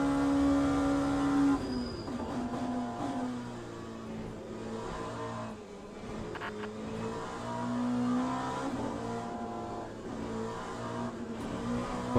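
Race car engine in the Le Mans Ultimate sim racing game, droning steadily with shifting pitch as it brakes, downshifts and accelerates through a slow corner, continuous and loud with faint tire noise and no talk.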